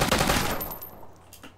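Rapid automatic gunfire from a video game rattles in one quick loud burst, then tails off into a fading echo.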